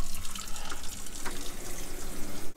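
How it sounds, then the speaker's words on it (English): RV kitchen sink tap running with both hot and cold water open during system sanitizing, a steady close broadband rush of flowing water with a few gurgles, continuous and alone. "I have the kitchen sink running on hot and cold"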